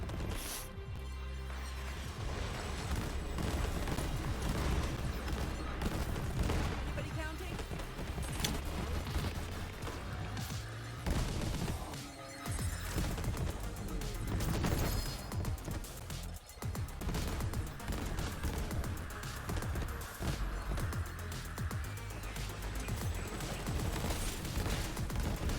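Gunfire in the shooter video game Borderlands 3, a dense and continuous barrage of rapid shots and impacts mixed with game music and effects, loud throughout with no speech.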